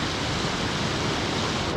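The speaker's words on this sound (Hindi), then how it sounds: "ये बहुत अच्छा एक झरना मिल गया मुझे शुरू में" A waterfall beside a mountain trekking trail on the way from Gaurikund toward Kedarnath, a loud, steady broadband rush of falling water that fills the whole clip without a break.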